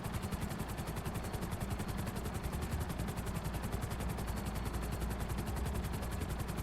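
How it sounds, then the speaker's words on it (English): A helicopter in GTA 5 Online whirs with rapid rotor pulsing while sustained gunfire crackles around it, steady and dense throughout with no talking. "That's gonna wear on the helicopter, all them bullets"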